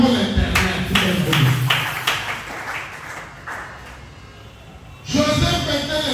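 A church congregation claps in acclaim of the Lord, a burst of loud, rapid handclaps that dies down midway to quieter scattered taps before a fresh surge of clapping returns near the end.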